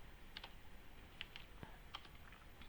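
Sparse, irregular clicks of a computer keyboard being typed on, quiet and close, with short gaps between keystrokes and no talking.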